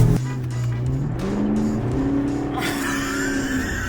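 A Dodge Hellcat with a loud engine roars past at racing speed, its note rising and shifting before a brighter whoosh as it clears by.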